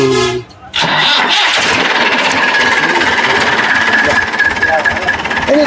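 A tractor engine cranks, then catches and settles into a loud, steady diesel rumble with rhythmic knocking, close up.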